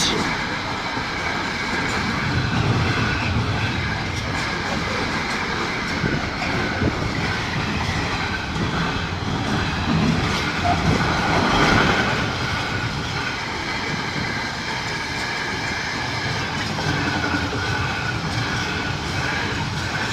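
Class 66 locomotive 66753 hauls a train past a level crossing, a continuous loud rumble with wheel clatter and rail noise sustained throughout, swelling slightly as it draws nearest.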